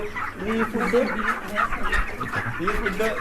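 Broiler chickens cluck in a busy, overlapping chorus from close by on a poultry farm, with people talking underneath throughout.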